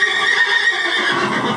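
A horse gives a loud, close whinny while being groomed, one sustained, quavering call that fills the whole moment with no talking.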